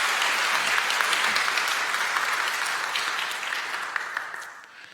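A church congregation at a Sunday service gives a warm round of applause, with loud steady clapping that slowly fades over five seconds.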